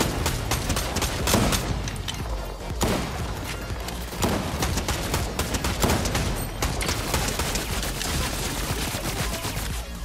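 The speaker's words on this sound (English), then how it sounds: "I'm shooting the boss." Dense, continuous gunfire while shooting a boss in Fortnite, rapid overlapping bursts and blasts filling the whole stretch loudly, with game effects layered in.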